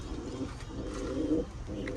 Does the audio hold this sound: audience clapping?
no